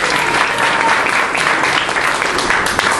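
A loud, dense ovation from a theater audience greeting the cast of a Chilean stage play, with many hands clapping continuously and evenly at close range, a few sharper claps standing out.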